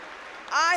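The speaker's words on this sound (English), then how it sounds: "Give him a big round of applause." A crowd applauding at a 1997 Congressional Black Caucus gala, a dense patter of clapping heard briefly before a loud voice cuts in over it.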